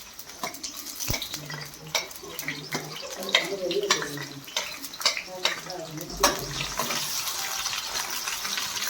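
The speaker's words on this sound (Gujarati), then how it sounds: "તેલ ગરમ થાય એટલે એની અંદર નાખશું ડુંગળી" Chopped onions, green and dry, fry in hot oil with a continuous close sizzle, broken by frequent clattering stirs and knocks of a utensil against the pan.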